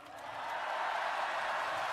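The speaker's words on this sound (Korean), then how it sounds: "박수 부탁드립니다." Crowd at a Korean political campaign rally cheering and applauding, a broad distant roar that swells and then holds steady, fairly faint.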